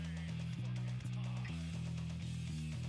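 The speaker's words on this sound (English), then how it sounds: "I've been relearning some of it in fingerstyle on bass, so I have the bass cranked way up" A fingerstyle bass guitar line, cranked up loud, plays repeating sustained low notes with regular plucked changes under a busier background music mix, and no one talks.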